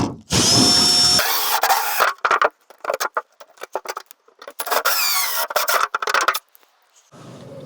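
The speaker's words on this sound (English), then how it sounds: "I've got the template on the roof, I've got a few holes to drill" A power drill bores holes through a van roof, starting with a loud, high whining burst and then running in choppy, repeated bursts with a second sustained run and brief pauses between.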